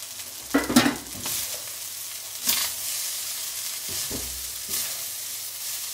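Cooked rice being stirred with a spatula in a hot pan for egg fried rice, a few distinct scraping strokes with soft sizzling between them, close and clear without talk.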